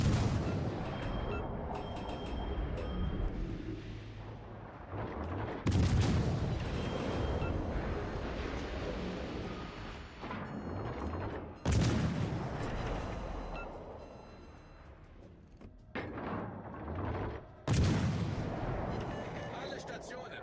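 Heavy naval guns firing at a target in World of Warships Legends, several loud booming salvos spaced a few seconds apart, each followed by rumbling decay, with a radio-style voice talking between them.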